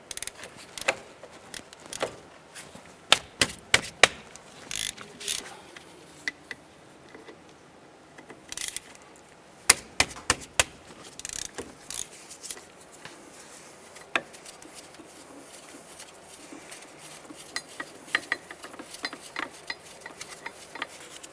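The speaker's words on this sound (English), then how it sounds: "we're going to use a 14mm socket and remove this bolt here" A ratchet with a 14mm socket removes bolts from a 2005-10 Jeep Grand Cherokee's wheel hub area, giving sparse sharp clicking bursts and metallic taps, fairly close and quiet, with gaps of handling noise between them.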